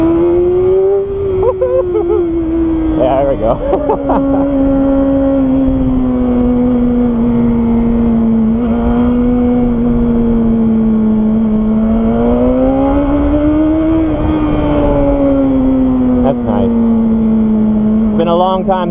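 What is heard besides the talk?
BMW S1000RR motorcycle engine revving high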